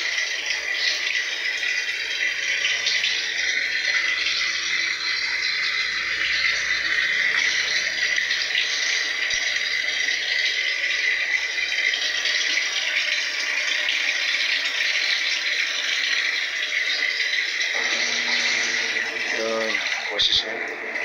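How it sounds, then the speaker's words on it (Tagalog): Water pours hard and steadily into a Daewoo automatic washing machine drum, a loud continuous rushing hiss filling the whole stretch, with a brief rattle near the end. "Kaya may lakas ng pasok ng tubig niya."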